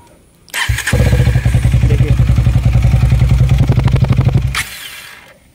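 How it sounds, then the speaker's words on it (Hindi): A KTM Duke 250 motorcycle with its exhaust opened up starts with a thump, then runs with a loud, close, rapid pulsing engine note before cutting off abruptly near the end. "मैंने मेरे बाइक का एग्जॉस्ट भी खोल दिया है, ये एग्जॉस्ट भी खोल दिया, इसका साउंड भी काफ़ी ज़बरदस्त है।"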